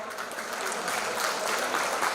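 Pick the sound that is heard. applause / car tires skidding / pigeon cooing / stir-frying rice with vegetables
applause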